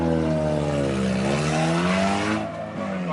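A Mitsubishi Eclipse car engine runs after a push start, a loud close engine drone that rises and shifts pitch before easing slightly near the end.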